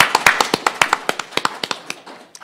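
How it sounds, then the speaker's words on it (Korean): An audience at an academic conference gives brief applause, with distinct, fairly sparse claps from a modest crowd that thin out and fade within a couple of seconds. "박수 한번 치시죠."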